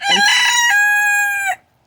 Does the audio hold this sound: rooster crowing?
yes